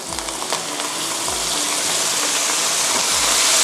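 Preserved radish sizzles loudly in a hot pan as white soy sauce is poured in, a dense close frying hiss with a few low stirring scrapes underneath.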